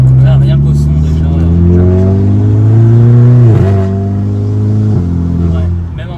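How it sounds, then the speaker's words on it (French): A Golf 6 GTI Edition 35 with stage 2 tuning and a full exhaust revs loud and close, its engine note rising and falling steadily with a sharp dip midway, while people talk over it. "On entend bien le full tube qui claque fort."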